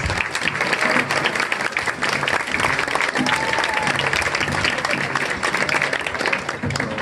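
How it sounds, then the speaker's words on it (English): A crowd at a school steel band event applauds the students, a loud, dense, continuous clapping with some crowd voices mixed in, holding steady throughout. "round of applause for my steel band students"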